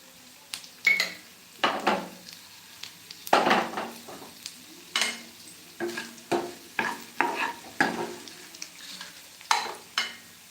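Cumin seeds and dried red chilies sizzle in hot oil for a tempering for lentil sambar, with a metal spoon repeatedly scraping and clinking against the pan in quick, irregular strokes, close up and without talk.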